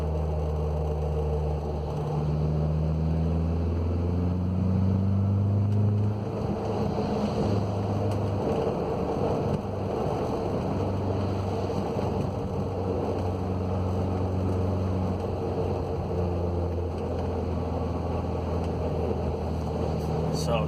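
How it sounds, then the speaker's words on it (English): Audi B6 A4 with a 6-speed manual transmission whirring off throttle while driving, a steady low droning whine with shifting tonal bands over road and wind rumble, continuous for about twenty seconds. "It's like a whirring off throttle."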